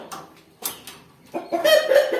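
A rooster and a white hen cluck in a new backyard coop, a few short separate clucks followed by a louder, more sustained run of calls close by.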